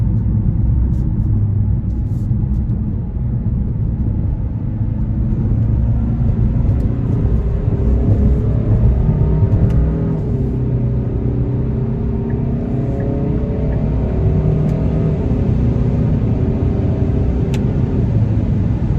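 A 2021 Kia K5 2.5 GT turbo engine accelerates as a continuous low, steady rumble heard from inside the car, building gradually under road noise without speech.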